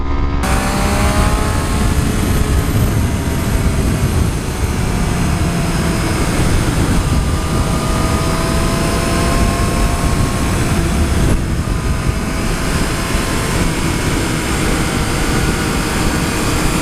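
2014 Triumph Street Triple R motorcycle engine under way, a steady loud drone with faint rising and falling pitch lines over heavy wind rush, continuous throughout with no speech.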